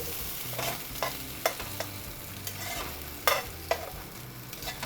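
Pineapple and zucchini fry in a pan with a steady low sizzle. Repeated scraping strokes of stirring and light clinks break through at close range, and no voices are heard.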